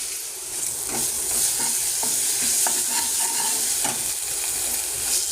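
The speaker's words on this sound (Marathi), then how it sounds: "त्याच्यामध्ये मी कांद्याची मिक्सरमध्ये बारीक चटणी मिक्सर केली आहे ती टाकून घेते" Ground onion paste sizzles in hot oil with curry leaves while a spoon stirs it, giving a constant close hiss with regular scraping knocks against the pan and no voices.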